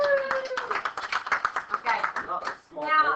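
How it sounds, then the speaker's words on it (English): A class of students claps in a brief, scattered round of applause, irregular hand claps close by with voices mixed in. "Let's give them a round of applause."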